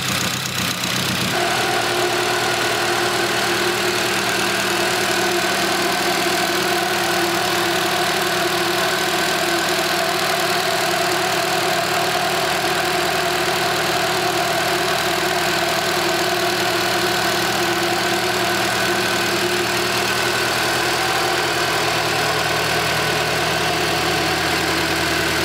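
A Honda S2000 engine fitted with individual throttle bodies idles steadily after its coolant system has been bled, a loud, constant, close drone with a slightly uneven beat, with no voices.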